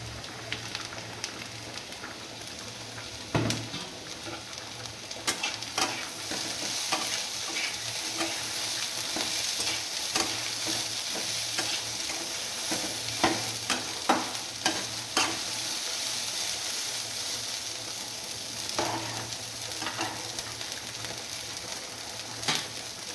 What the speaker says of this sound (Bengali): এবার দিয়ে দেব কাঁচা মটরশুঁটি